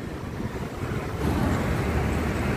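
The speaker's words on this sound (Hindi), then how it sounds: "बहुत ही ठंडा ठंडा हवा चल रहा है यहाँ पे" Cold wind blows steadily at a roadside near Kanyakumari, a continuous rough rushing roar against the microphone that swells slightly louder partway through, with no talk.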